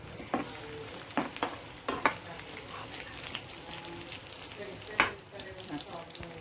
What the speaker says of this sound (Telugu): ఇప్పుడు లాస్ట్లో మనం ఎల్లుల్లిపాయలు వేయించుకుందామండి.